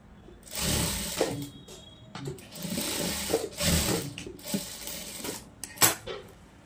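Sewing machine running a straight stitch along a blouse seam in a tailoring class, several short bursts of close, whirring stitching separated by brief pauses and small clicks, no talking.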